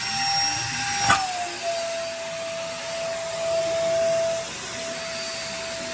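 A SOARFLY handheld vacuum cleaner runs with its air filter attached, a loud steady whine and rush of airflow close by, with a brief knock near the start and a slight pitch drop as it settles.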